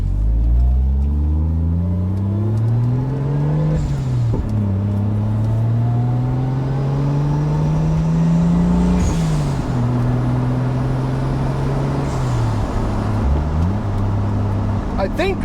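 Toyota Supra with an ECUMaster engine management unit, driven on the road: close, loud engine note that climbs through the revs, drops at gear shifts and climbs again, with steady road noise under it.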